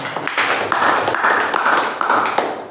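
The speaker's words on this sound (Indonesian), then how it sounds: "Tepuk tangan buat Bu Nunung." A group at a teacher training session claps together, a close, fairly loud burst of hand claps with distinct sharp slaps and a few pulsing surges across the short stretch.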